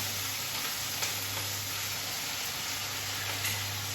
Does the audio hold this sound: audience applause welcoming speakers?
no